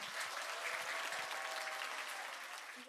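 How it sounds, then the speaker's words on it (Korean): An audience at a humanities lecture-concert welcomes a history professor with sustained applause, a dense and even rush of clapping from a hall crowd that eases slightly toward the end. "큰 박수와 함성으로 맞아주시기 바랍니다."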